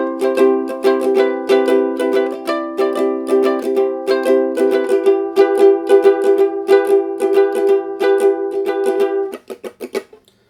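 Guitar strummed with a textured pick, steady repeated chords ringing clearly for about nine seconds, then a few quieter, muted strokes at the end, played alone.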